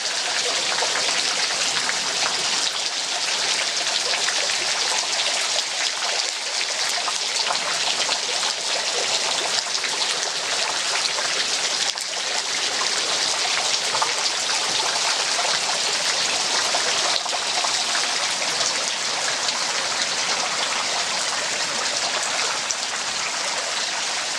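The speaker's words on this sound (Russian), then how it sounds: "такие громады нависают над нами, и из них сочится вода." Water seeps and trickles from towering seaside rock cliffs, a steady close hiss of dripping and running water that fills the whole stretch without pause.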